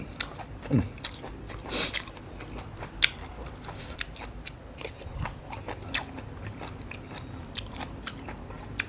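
Close, loud crunching as crispy pork skin is bitten and chewed, with a rapid irregular series of crackling bites and wet chewing throughout, and no talking.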